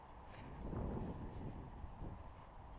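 Wind buffeting a microphone aboard a 30-foot keelboat sailboat on the Hérault river, a steady low rumbling rush with soft gusty swells and no voices.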